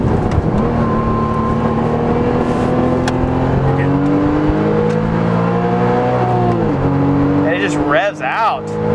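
A Porsche Cayman race car engine revs hard close by, its pitch climbing smoothly through several long pulls before dropping, with a brief burst of higher whine and a voice near the end.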